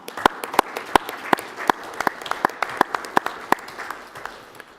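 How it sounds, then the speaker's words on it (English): Modest applause at a city council meeting, a few people clapping in a loose rhythm of sharp, distinct claps that trail off toward the end. "I think a little bit of applause wouldn't hurt on this one."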